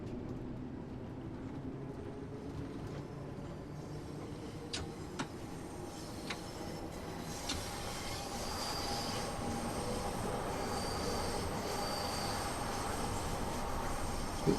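A London Underground style train running in Train Sim World 2, a steady low rumble of wheels and motor with a few clicks and squeaks from the track, gradually building as it gathers speed, with no talking.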